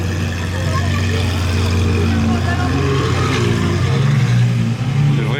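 A convoy of supercars, including Ferrari 812 SVJ and 812 GTS Novitec models, rolls past at night in Juan-les-Pins, with loud engine drones that swell and shift pitch, while people talk over the noise.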